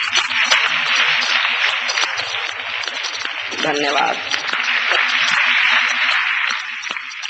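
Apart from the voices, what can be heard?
audience applause for a poet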